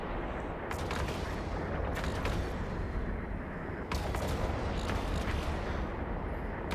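Rapid, dense volleys of rocket fire crackle and boom in EVE Online, a continuous loud barrage with periodic sharper bursts and no pauses.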